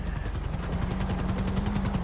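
Video game helicopter with a steady, loud rotor drone and rhythmic chopping pulses, continuous throughout under constant engine hum.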